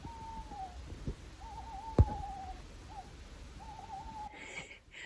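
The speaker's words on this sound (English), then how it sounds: "I don't know what type of bird that is, but that's what I'm going to fall asleep to." At night by a campsite, an owl hoots in a series of drawn-out calls repeated several times at moderate distance, over quiet background with one sharp knock partway through.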